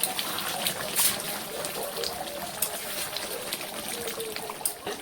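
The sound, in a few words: pouring spiced water into mutton curry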